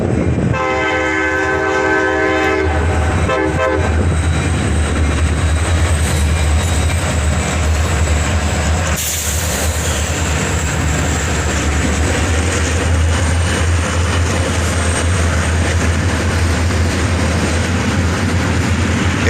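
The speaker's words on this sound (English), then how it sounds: "Triple EMD power on this one, a pair of SD42s lead, and check out this trailing unit, a GP38-2" CSX freight train led by two EMD SD42 locomotives with a trailing GP38-2 passes close and loud, a horn blast sounding early, then a steady heavy diesel rumble and rolling freight cars continue throughout.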